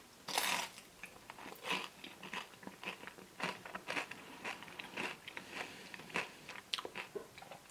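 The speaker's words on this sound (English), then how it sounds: "As you can hear probably, there is decent crunch to it." Repeated crisp crunches from biting and chewing a McDonald's Hot Pineapple Pocket, a fried pastry shell with pineapple filling, close up with sharp crackly bursts in an irregular chewing rhythm and no talking.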